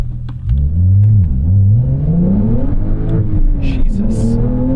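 A 2022 Porsche 911 Carrera S (992.1) pulls hard under acceleration, its engine note climbing steadily through the revs, loud and close, with a brief dip and a shift partway through.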